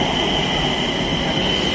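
A Nagpur metro train pulls into a station, its steady rumbling roar and a high whine filling the short moment, loud and continuous with no talk over it.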